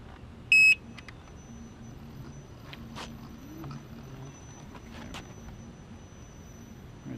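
A Gotway Msuper V3 electric unicycle gives a single short, sharp electronic beep series near the start, followed by quiet room noise with faint scattered taps and clicks.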